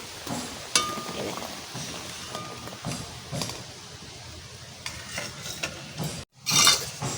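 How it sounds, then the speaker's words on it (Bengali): Quail eggs boil in a pot, giving a continuous bubbling crackle with scattered clicks and taps. A louder burst of bubbling comes near the end. "কি সুন্দর সিদ্ধ হয়ে যাচ্ছে"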